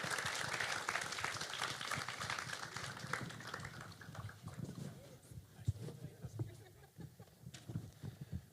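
An audience at a sports forum applauds, a quiet and dense wash of clapping that is steady at first, then thins into scattered claps while faint voices carry underneath.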